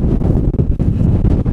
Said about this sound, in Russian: Ветер сумасшедший.